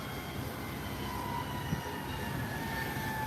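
An Embraer 170 airliner taxis toward the runway threshold at Howard Hamilton International Airport, a steady low engine rumble and drone with a faint whine, held at an even level throughout.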